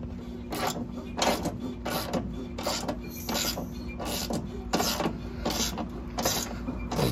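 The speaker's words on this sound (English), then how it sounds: "we're gonna start ratcheting this bad boy up, which will start lifting up our cab." A ratchet turned with a 3/4 inch socket lifts a truck cab, giving quick bursts of sharp clicking strokes with brief creaks over a low background hum.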